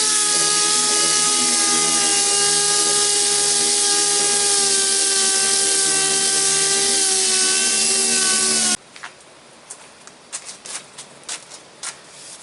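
A power sander works body filler on the hood of a 1997 Freightliner FLD 120 truck, a loud steady whine with harmonic hum for several seconds, then stops, followed by scattered scraping and tapping sounds.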